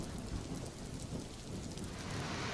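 Torrential monsoon rain pours in a steady, dense roar, with low rumbles of thunder rolling underneath throughout, in a mountain pilgrimage region.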